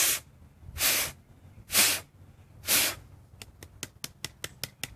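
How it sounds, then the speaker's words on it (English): Breath blown in three strong, breathy gusts against a soaking-wet lighter, the air forced into the crack beside the spark wheel, followed by a quick run of sharp little taps. "Sometimes you can blow down here in the crack."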